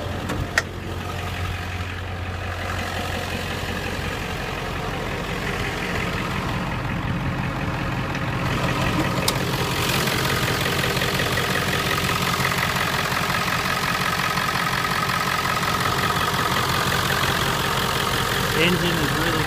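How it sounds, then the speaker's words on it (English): A 1997 Ford F-350 with a 7.3 Powerstroke diesel idles steadily up close, a low constant rumble with a brief clack near the start. "Engine is really clean, runs great, no issue."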